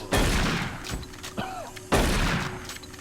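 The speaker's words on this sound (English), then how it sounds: "it's just a warning shot" A gunshot from the video game Doom 3: The Lost Mission bursts out loud and close, followed by a second heavy blast after a short gap, with a faint whine and scattered game noise between them.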